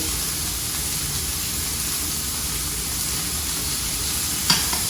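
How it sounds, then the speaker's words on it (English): Small-cut beef searing in a hot pan, giving a steady, loud, even sizzle that carries on without a break, with one brief clatter near the end. "Let it cook, let it sear, let it do its thing."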